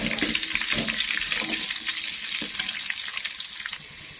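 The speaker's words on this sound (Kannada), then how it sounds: "ಈರುಳ್ಳಿನ ಕೂಡ ಚೆನ್ನಾಗಿ ಫ್ರೈ ಮಾಡಬೇಕು" Onions frying in a hot tempering for sweet pumpkin palya, making a loud continuous sizzle up close with a few soft stirring knocks, alone with no voices.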